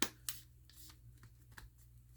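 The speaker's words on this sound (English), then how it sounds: "now you have to push on both sides to secure the clips" MacBook battery clips being pushed into place: a sharp snap at the start, then a second click and a few softer taps and handling sounds over a low hum, close and quiet.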